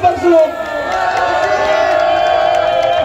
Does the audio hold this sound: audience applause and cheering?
yes